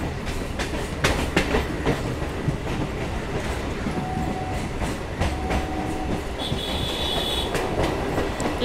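Local train on Kolkata's single-track Chakra Rail line beside the Ganges, heard from on board as a steady rumble with rhythmic clickety-clack of wheels and brief thin squeals, without talk.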